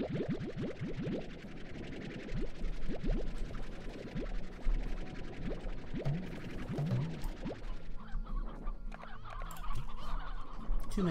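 Cartoonish chicken clucks and gobbling calls from the game Slime Rancher, many birds at once, with scratchy bursts and game sounds layered over a steady background, continuous and fairly busy throughout.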